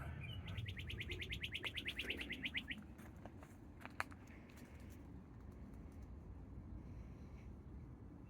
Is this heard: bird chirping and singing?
yes